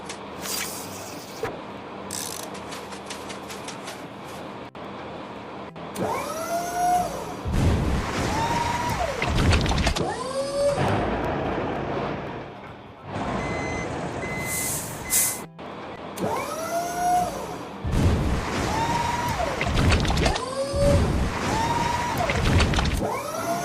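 Excavator digging a foundation pit for a subway in a construction video game, with repeated heavy machine whirs, hissing air-brake-like bursts and reversing beeps, loud and up close throughout.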